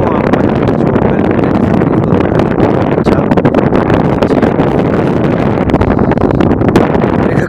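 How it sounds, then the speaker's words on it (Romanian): Strong wind buffets the microphone outdoors at a sightseeing spot in Târgoviște, a loud, constant rumbling roar that fills the whole stretch, with faint talk partly buried beneath it. "Cred că cam bate vântul, nu știu dacă ne auzim."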